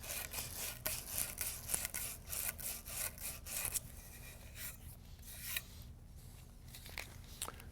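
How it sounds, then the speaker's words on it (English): A towel rubs and wipes sanding debris off a copper pipe in quick, scratchy strokes, close and faint, tapering into quieter rubbing toward the end. "Just using the towel to wipe off the excess debris from the sanding."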